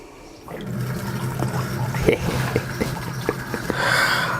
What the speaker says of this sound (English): thread the open end of your tap and run cold water through it